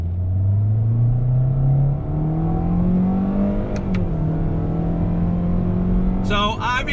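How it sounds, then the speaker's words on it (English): A 2021 Toyota Corolla Hatchback with paddle shifters pulls hard under acceleration, its steady engine drone climbing in pitch through a shift, with a brief higher tone near the end. "we're gonna do a little acceleration test. I'm gonna use the paddles on throttle."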